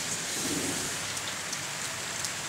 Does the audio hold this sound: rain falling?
yes